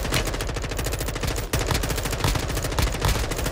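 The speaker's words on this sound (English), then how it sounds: "they're in a gunfight between two teams." Dense, continuous gunfire from a video game gunfight between two teams, with rapid overlapping shots packed tightly together at a loud, unbroken level.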